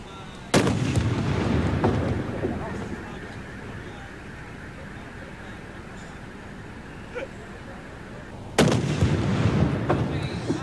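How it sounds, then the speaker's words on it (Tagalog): Illegal firecrackers are set off in a police demonstration, with two sharp, loud blasts several seconds apart heard from over ten meters away, each trailing into rumbling echo amid outdoor background noise. "Alam mo, Kara, sa lakas ng pagsabog, ramdam natin ito kahit mahigit 10 meters ang layo natin mula doon sa mga pinasabog na paputok na yan."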